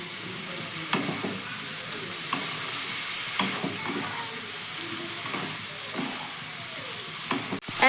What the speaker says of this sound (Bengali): ফুলকপিটা দেওয়ার পর গ্যাসের ফ্লেমটা কিন্তু আমি মিডিয়াম টু হাইয়ের মাঝখানে রেখে দিলাম তারপরে আমি ফুলকপিটাকে একটু কষিয়ে নেব